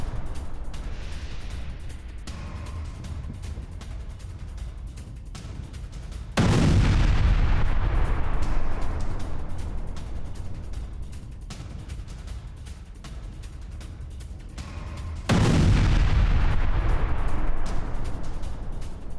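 Artillery strikes hit a Pakistani military post in PoK. Two heavy, booming blasts land several seconds apart, each with a long rumbling decay, over constant background noise and with no speech.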